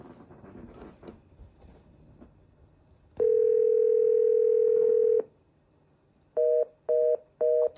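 A FreePBX phone system ringing tone sounds in one long steady burst, then three short repeated beeps, clear and loud after a stretch of faint background noise.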